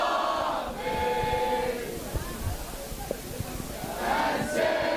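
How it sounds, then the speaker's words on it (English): Crowd of Kingswood College boys and girls chanting war cries at halftime of a school rugby match against Daniel Pienaar, a sustained mass of voices outdoors with rising shouts near the start and end. "Behind us, we have the boys and girls of Kingswood College here supporting their team during the halftime, cheering them on with some war cries."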